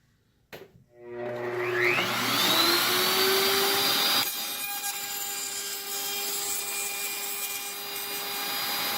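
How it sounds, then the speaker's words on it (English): A power router spins up and cuts out the inside of a wooden toy box, starting with a click and a rising whine, then settling into a loud, close, sustained high-pitched roar with a rough cutting texture. "Now we're going to route out the insides."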